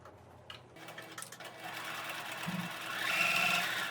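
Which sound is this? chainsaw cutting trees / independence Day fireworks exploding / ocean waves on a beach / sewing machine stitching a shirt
sewing machine stitching a shirt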